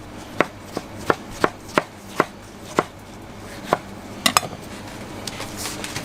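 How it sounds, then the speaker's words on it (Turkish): A knife slices through tomatoes on a board, about a dozen sharp, fairly close knocks at an uneven pace, with a quick double tap near the end and light clatter between cuts. "Şu şekilde domatesimizi dilimleyelim."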